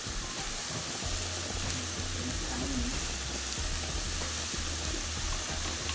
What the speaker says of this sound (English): Just leave it there to simmer itself down.